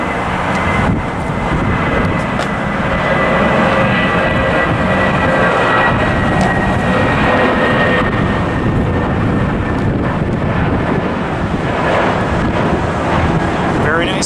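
A JetBlue airliner takes off at LAX, its engines a loud, steady roar that fills the whole stretch, mixed with wind buffeting the microphone.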